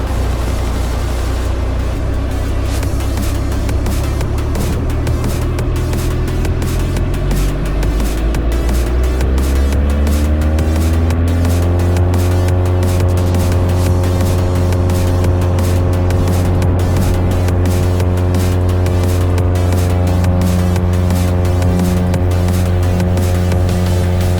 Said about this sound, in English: Decathlon is lining up and rolling runway 12 right